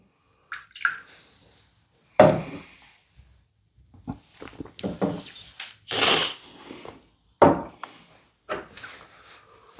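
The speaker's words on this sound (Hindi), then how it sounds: "इसको थोड़ा रिंस कर लिया जाए। हाँ, थोड़ा हल्का पानी से, ज़्यादा पानी भी नहीं" A glass gets rinsed with a small splash of water while a shot-glass vodka comparison is set up, giving scattered short splashes, drips and clinks with quiet gaps between them, close by and with no talking.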